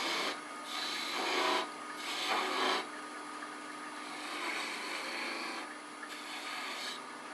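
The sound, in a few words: bowl gouge cutting a V groove in wood on a lathe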